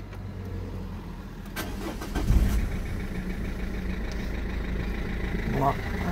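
A Renault Megane II 1.5 dCi diesel cranks and fires, then settles into a steady close idle after an alternator, tensioner and belt replacement, with a voice talking over it.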